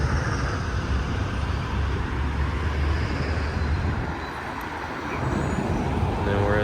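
Steady road traffic rolls past a hotel's main vehicle entrance in Mexico, a continuous broadband rumble of cars with a brief dip before building again, fairly close and loud.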